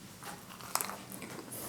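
Close, quiet bites and soft chewing of French toast with maple syrup, a few small crunchy and moist mouth sounds in quick succession with no talking.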